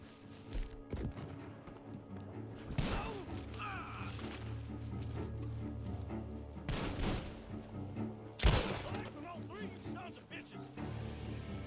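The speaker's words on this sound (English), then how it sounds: "The gunshots are coming from that barn." Gunfire from a barn in the video game Red Dead Redemption 2: a few sharp, booming shots spaced several seconds apart over a steady ambient game soundscape, with voices talking in between.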